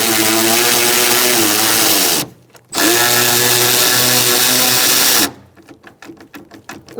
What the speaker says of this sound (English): We have 1, 2, 3 nuts that we're going to loosen using our 13mm socket.